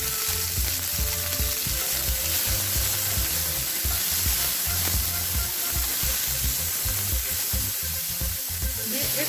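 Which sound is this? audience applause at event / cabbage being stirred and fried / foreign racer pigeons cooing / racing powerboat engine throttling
cabbage being stirred and fried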